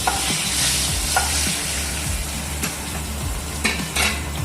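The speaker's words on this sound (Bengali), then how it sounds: "সেই মাছ ভাজা তেলটাই একটু গরম করে নিয়ে তারপরে এর ভিতরে একটা শুকনো লঙ্কা দিয়ে দেবো, আর দুটো তেজপাতা দিয়ে দেবো" Dried red chili and bay leaves frying in reheated fish-frying oil for a stingray curry: a continuous hot sizzle with a few scrapes and clinks of a stirring spoon against the pan.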